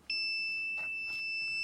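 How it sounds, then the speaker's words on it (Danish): A Segboard hoverboard beeps continuously during calibration while its button is held down, a steady, clear electronic tone with faint tapping beneath it. "holder vi trykknappen inde, indtil den kontinuerligt begynder at bip"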